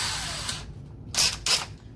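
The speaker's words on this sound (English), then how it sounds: "we're actually going to use our masonry screws to drill this in here." Power drill driving masonry screws through a wooden window buck frame into a cinder block basement foundation, two short, loud bursts of whirring and grinding after a stretch of steady mechanical noise, close by with no talk.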